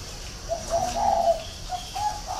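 A caged red-whiskered bulbul sings short, clear whistled phrases, a few bright notes close by over a soft background hum.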